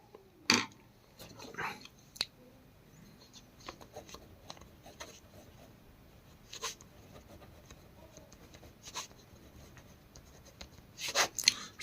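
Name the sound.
writing an answer on paper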